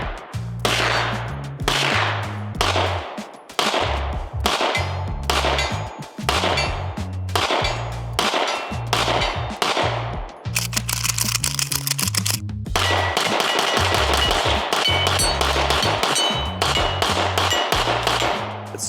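Rapid gunshots from a Staccato HD 4.5 pistol firing 70 grain ammunition, loud and sharp, in quick strings of single shots followed by a denser, faster burst of fire toward the end.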